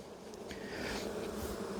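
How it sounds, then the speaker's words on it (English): Honey bees buzz around an open hive during an inspection, a dense steady drone of many bees close by with individual bees passing near. "I got 2 bees crawling up my legs right now"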